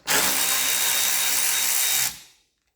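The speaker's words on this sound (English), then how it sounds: "undo these Torx bits" A power tool whirs steadily on Torx bolts of a Mark 5 Ford Mondeo wishbone, a close, loud two-second burst that cuts off and fades quickly.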